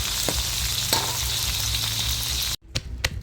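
Crickets fry in hot oil with a dense, continuous crackling sizzle up close, broken by light stirring knocks, until it cuts out abruptly near the end, followed by a few scattered clatters.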